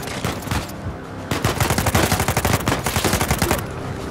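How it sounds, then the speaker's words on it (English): Enemy gunfire in the Uncharted 4 video game, loud rapid bursts of automatic fire in close succession with a brief gap before a longer sustained volley. "Got an idiot trying to shoot at me."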